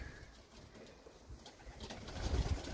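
Young racing pigeons cooing at the front of their loft aviary, soft murmuring coos and faint bird calls over a steady rustle, growing louder toward the end.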